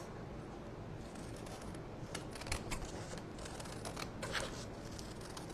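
Scissors cutting paper to make paper roses, heard as faint, brief snips and crinkling paper rustles scattered over a steady background hiss.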